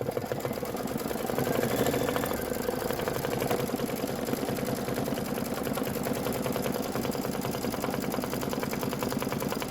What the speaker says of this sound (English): we're going to stitch the witch's leg fill stitch